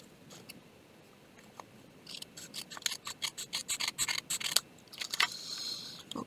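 Scissors trimming the edges of paper scraps for a junk journal, heard as a quick series of about a dozen close, crisp snips after a quiet start, with a papery rustle at the end.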